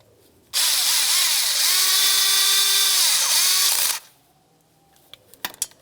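A power tool spins loose a bolt on the EGR adapter of a 1998-2002 Lincoln Navigator during a knock sensor replacement: one loud whirring burst of about three seconds with a pitch that dips and rises, followed by faint clicks and clinks.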